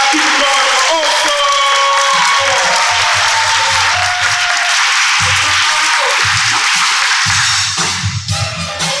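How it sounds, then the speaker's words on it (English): An audience at an adult poetry slam applauds a poet with loud, dense clapping that runs throughout. A voice speaks over the crowd, and the clapping thins out near the end. "Clap it up for that poet."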